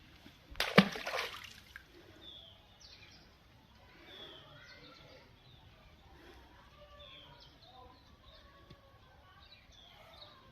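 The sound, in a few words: stone dropped into water splashing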